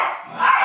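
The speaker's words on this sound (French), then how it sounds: "Le chien énervé." An angry dog barks once in a short, harsh, close burst, with no talk over it.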